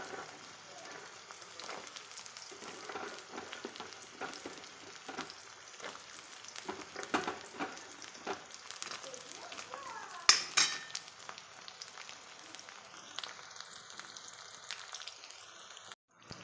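Green peas fry in a pan for homemade noodles, a soft steady sizzle with scattered light clicks and scrapes of stirring, fairly quiet and close throughout.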